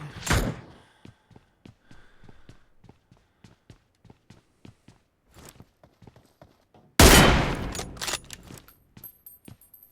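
Gunfire rings out in an online battle royale video game as a string of sharp, short shots in an uneven rhythm. A louder burst comes near the end.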